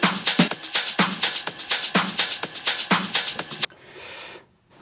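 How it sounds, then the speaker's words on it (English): Layered house music drum loop with steady four-on-the-floor kicks and bright top percussion, a punchy regular pulse for over three seconds before dropping to a brief noisy tail and silence. "And altogether my drums sound like this."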